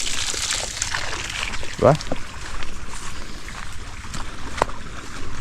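Irrigation water on a farm flows strongly into furrows in a continuous rushing slosh, with a brief splash partway through, while a nearby voice speaks.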